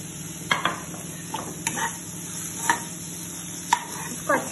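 Carrot, capsicum and grated paneer are stir-fried for a momo filling, giving a soft steady sizzle broken by several sharp scrapes and clinks of a utensil against the pan.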